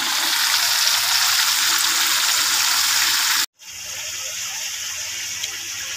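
Food sizzles and crackles in hot oil for sinigang sa kamyas, a dense, steady hiss close by that cuts out for a moment, then resumes a little quieter.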